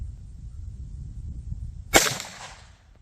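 .223 rifle shot fired through a clay target outdoors, one sharp loud crack cutting through low background rumble, followed by a short decaying echo.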